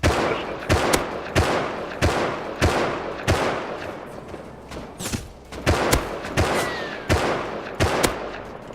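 Semi-automatic rifle fire in a shooter video game rings out in loud, sharp single shots at a steady, spaced rhythm, about a dozen cracks over a continuous background of game noise.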